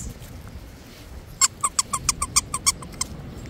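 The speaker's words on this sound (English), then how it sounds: "You gotta find that squeaker." A dog toy squeaker squeezed repeatedly, about a dozen sharp, loud squeaks in a quick irregular run after a quiet start.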